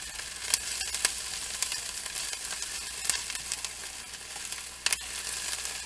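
Garlic and onions sizzle softly in a pan, a steady close-up frying crackle with faint clicks from stirring running throughout.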